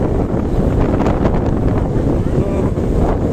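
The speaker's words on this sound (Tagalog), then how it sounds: "malakas ang hangin" Strong, rainy wind gusting at a waterfall, a loud, continuous roar buffeting the microphone throughout with no clear break.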